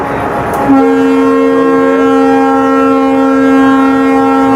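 A loud, sustained horn blares steadily after a brief rumble, holding one unbroken tone as a Sirajganj to Dhaka Kamalapur passenger train sounds close by.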